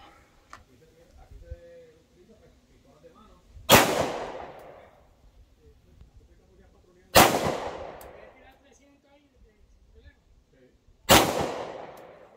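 Three loud, sharp 9mm handgun shots at a shooting range, spaced roughly four seconds apart, each cracking out and ringing off; quiet low murmur fills the gaps between them.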